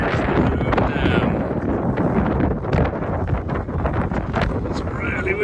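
Strong gusting wind buffets the microphone at Hoover Dam, a loud continuous roar with rumbling low end throughout, while faint voices come through underneath.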